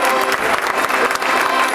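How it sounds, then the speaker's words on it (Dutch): Dense, steady applause from a crowd at a local carnival society gathering in Spaubeek, honoring the mayor, loud and continuous throughout. "Een geweldig applaus voor onze burgemeester Christine van Basten."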